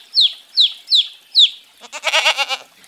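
Farm animal calls ring out close and clear: four quick, sharp, evenly spaced chirping clucks, then a quavering, pulsing bleat.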